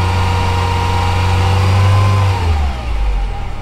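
A car engine revs up loudly and close, holding a strained high rev for about two seconds before the throttle drops and the pitch falls back toward idle.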